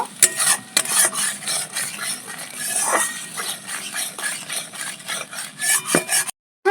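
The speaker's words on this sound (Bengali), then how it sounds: "পরিমাণ মতো নুন ভালো করে সর্ষেটা একটু কষিয়ে নেব" Mustard paste with salt being sautéed in a pan for a Bengali olive barb fish curry, with steady scraping stirs and a soft sizzle running close and continuous, ending in a brief silence.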